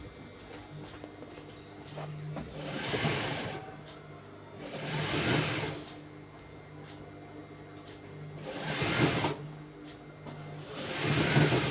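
Sewing machine stitching a pant belt, several whirring bursts of a few seconds each separated by pauses, close and moderately loud.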